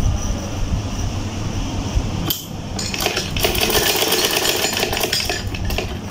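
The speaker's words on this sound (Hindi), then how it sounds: "अब एक सिलाई इधर लगाती" A sewing machine stitches a fabric cover for a Quran, whirring and rattling continuously and loudly nearby, with a brief dip before the stitching resumes.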